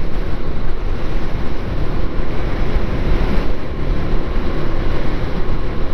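Heavy wind roars and buffets the microphone in a constant loud rush, with no voices.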